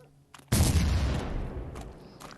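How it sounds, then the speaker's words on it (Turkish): Laser explosion in the video game Psychopath Hunt, a sudden loud booming blast that hits hard and then rumbles and decays over about two seconds, heard alone. "Lazer burada benim bu lazeri patlatmam lazım."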